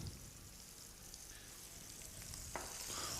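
Stuffed pork filet mignon sizzling in a pan as blueberry vinegar is drizzled over it, a faint steady frying hiss with a brief sharper crackle near the end.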